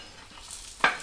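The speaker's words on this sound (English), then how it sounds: "Mix that thing up." Vegetables being stirred in a hot frying pan, giving a low background sizzle and then one short, sharp scrape-and-hiss near the end.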